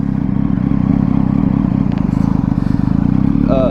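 A 2011 Triumph Street Triple 675R motorcycle engine runs steadily and loud throughout, with a dense low rumble and faint clattering on top.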